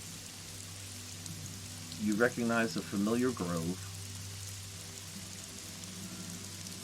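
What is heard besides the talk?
rain falling around a forest grove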